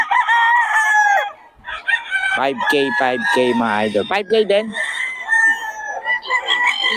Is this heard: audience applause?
no